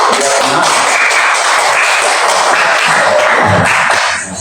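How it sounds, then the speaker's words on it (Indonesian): Applause from a classroom audience at a teaching session, dense and steady throughout, fading slightly at the very end. "Kita memberikan tepuk tangan dulu."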